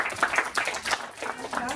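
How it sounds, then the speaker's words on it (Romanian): Children applauding at an evening library event, a brief burst of scattered clapping at moderate level with a voice heard alongside. "Vreau încă o dată să aplaudați!"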